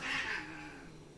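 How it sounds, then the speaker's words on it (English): Cats fighting indoors in a home kitchen, a loud strained yowl that rises quickly and then trails off into a fainter, sustained caterwaul. "My cats are fighting."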